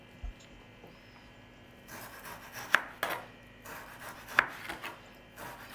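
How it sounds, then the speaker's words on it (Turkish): A knife slices meat thinly on a wooden board for quick homemade doner. Soft, repeated rasping cuts come close and fairly quiet, with a few sharper knocks against the board. "Dilimleri elimden geldiğince incecik dilimleyip hazırladığım sosun içerisine atıyorum"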